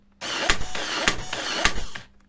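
Cordless battery nail gun firing nails one after another under a steady motor whine, three sharp bangs spaced about half a second apart, close and loud, no voices.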